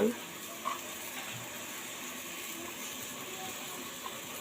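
Garlic paste sizzles in a hot pan for a moong dal cooked with fish head: a steady, faint frying hiss runs throughout, with a small clink near the start and no talking.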